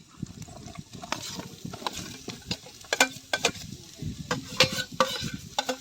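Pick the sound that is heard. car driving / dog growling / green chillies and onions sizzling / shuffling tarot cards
green chillies and onions sizzling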